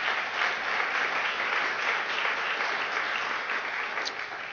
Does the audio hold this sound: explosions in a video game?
no